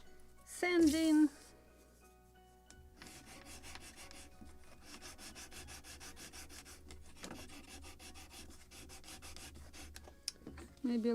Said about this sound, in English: sanding.